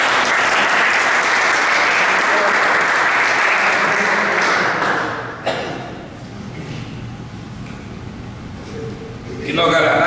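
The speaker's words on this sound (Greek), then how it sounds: "Εάν χειροκροτήσει άνθρωπος κάτι, είναι ο Δημόπουλος ο Δημήτρης." Loud, dense audience applause fills the first half at a club season presentation for the 2024-25 season, then drops away to a quieter room with low murmur before clapping swells briefly again at the end.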